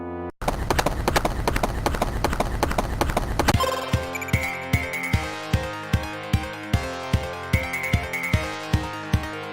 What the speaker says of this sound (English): listen to how the composers introduce the horse galloping to establish a tempo